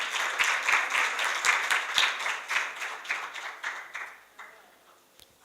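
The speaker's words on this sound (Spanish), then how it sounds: "Entonces le brindamos un caluroso aplauso a Mónica en su presentación." Audience clapping for a presentation at an event, a dense burst of applause close by that thins out and fades to a few scattered claps.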